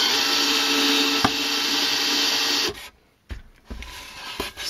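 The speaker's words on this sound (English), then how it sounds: "I'm just going to drill these up just a bit, just deep enough so that they come out" A drill bores holes in a model base for a Warlord Titan build, a steady close whine running for nearly three seconds before stopping, followed by short quieter bursts and handling noise.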